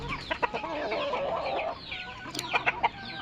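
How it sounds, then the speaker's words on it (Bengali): Desi chickens cluck on a rooftop while being given their morning feed: a cluster of close, chattering clucks and short squawks, busiest at the start and end. "এই আমার দেশি মুরগি"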